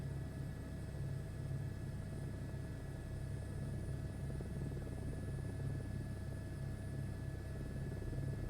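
An Airbus H125 helicopter in Microsoft Flight Simulator 2024, its rotor and turbine making a steady, close droning whir with a low throbbing beat that holds level and unbroken throughout.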